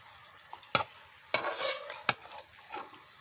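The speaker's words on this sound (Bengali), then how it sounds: "এবারে আলুগুলো দিয়ে দেব আস্তে আস্তে" Potatoes go one by one into a hot pan for a Bengali banana-flower and prawn dish, each drop giving a sharp close clatter and a brief sizzle, with a soft crackle of frying between.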